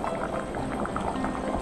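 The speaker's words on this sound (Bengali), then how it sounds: "খুব সহজেই ঝোলটা টকবক করে ফুটছে" Fish curry broth with Nepali taro bubbling at a steady rolling boil, a continuous close burble of popping bubbles with no voices.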